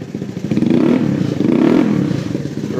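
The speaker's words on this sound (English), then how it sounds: "This one has a really cool exhaust system on it too." A small 110 ATC three-wheeler engine revs steadily with a throaty, burbling exhaust, rising and falling slightly over a few seconds, close by.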